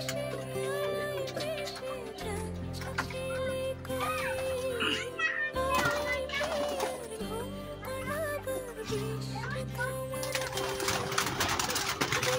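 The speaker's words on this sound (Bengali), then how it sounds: "এখানে গতবারে রেস করা কবুতর এবং বছরের বাচ্চা" Racing pigeons and their young coo in a loft. Low, murmuring coos mix with busy background noise and a steady mechanical whirring throughout.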